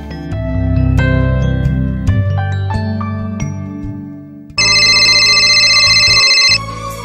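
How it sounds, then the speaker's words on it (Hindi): In a Hindi short film, a telephone ringtone sounds loud and steady for about two seconds, following a passage of plucked, chiming music. "हाँ, महक को फोन करती हूँ।"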